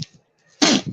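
A single short, sharp sneeze bursts out after a moment of near silence.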